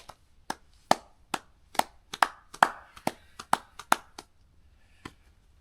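Sharp, separate hand claps ring out at a wild hammock campsite, about a dozen in an uneven rhythm over five seconds. They are close and crisp, with no talk.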